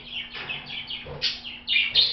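Parakeets or cockatiels chirping close by, a quick series of bright, sharp tweets in an uneven rhythm, growing louder toward the end, with no talk over them.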